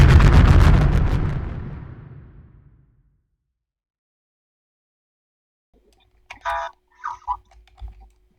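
A loud explosion in a Roblox-style ship-destruction game, a big broadband blast that decays over about three seconds, followed by silence and then a few short faint game sounds.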